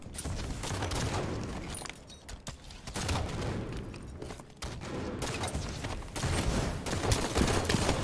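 Rapid bursts of automatic gunfire in the Halo 5 video game, a 2v2 hardcore match, come in dense repeated volleys separated by short gaps, loud and continuous throughout.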